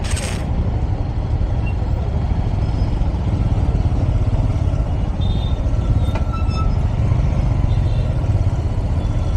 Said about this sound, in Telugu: అమ్మా మళ్ళీ ఈడ ట్రాఫిక్